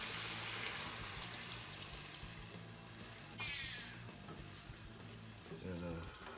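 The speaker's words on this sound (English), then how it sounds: "I'm going to go ahead and put in now 2 cups of beef broth." Beef broth, two cups, poured into a soup pot of ground beef and potatoes, a brief liquid splash over steady sizzling and kitchen clatter at close range.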